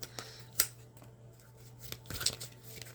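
Angel cards being shuffled by hand in a quiet room, with soft, irregular riffling and a few sharp flicks and snaps scattered through an otherwise hushed background.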